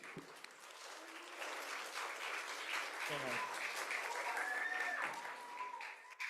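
An audience at a children's literature panel for upper elementary grades applauds to welcome a speaker, a dense, steady wash of clapping that holds for several seconds before thinning out at the end.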